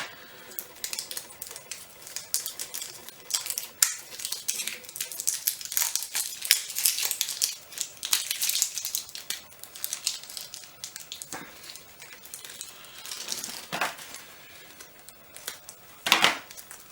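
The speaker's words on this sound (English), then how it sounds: "I use bloody scissors to get into this plastic." Scissors snipping into plastic toy packaging, a series of irregular sharp clicks and crinkly cuts close by, with a louder burst near the end.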